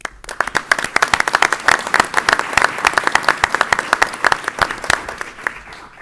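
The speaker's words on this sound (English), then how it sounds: "Let's give them a round of applause." A room of people at a school board of education meeting applaud state swimmers and a wrestler, steady mid-distance clapping with distinct individual claps standing out across six seconds, no talking.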